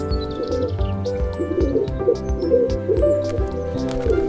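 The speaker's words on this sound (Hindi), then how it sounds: "पिजन को हिंदी में कबूतर कहते हैं।" A pigeon gives a run of soft, throaty coos in a repeating rhythm, close and clear, over a quiet sustained musical background.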